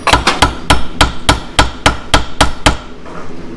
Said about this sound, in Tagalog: Tapping the Allen socket to the bolt also ensures na pasok siya